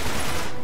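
Gunfire in the game Uncharted 3 comes as a brief, dense burst of rapid shots, loud and harsh, filling the moment without any voices.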